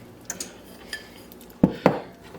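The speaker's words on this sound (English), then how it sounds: "we're going to add our chickpeas and let them simmer in it" Chickpeas dropped into a thickened sauce in a pan, a few light clinks followed by two sharp clatters of spoon or utensil against the pan, near and distinct.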